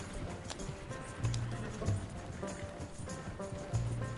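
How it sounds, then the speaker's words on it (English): Horses galloping in the Red Dead Redemption 2 video game, a steady stream of hoofbeats with soft thuds and a few stronger accents, close and moderately loud over a low game ambience. "Alright, let's get these horses into a full gallop"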